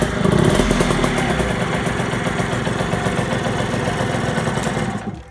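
A Derbi 150 motorcycle engine, just back from a carburettor repair, idles steadily and evenly close by with a continuous buzzing drone, then cuts off at the very end.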